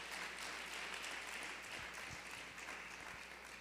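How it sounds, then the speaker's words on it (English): Audience at a Black History concert with Rich Township District 227 giving a round of applause, steady crowd clapping at moderate level over a low background hum, with a few thumps. "So can we give all of them a round of applause?"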